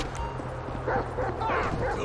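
A dog in the GTA 5 video game yips and whimpers in short repeated bursts over a low rumbling game background, fairly close and moderately loud.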